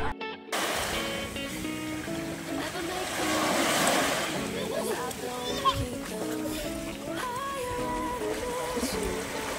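Sea surf rolls onto a beach at Calatagan, a steady wash of waves under lively background music and children's voices all through.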